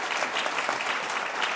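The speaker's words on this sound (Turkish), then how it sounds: "Lütfen herkes alkışlasın." Audience clapping steadily and densely throughout a Turkish television talk program, a full wash of applause with no voices standing out.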